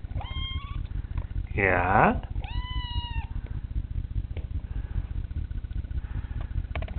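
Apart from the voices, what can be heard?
eight-week-old kitten meowing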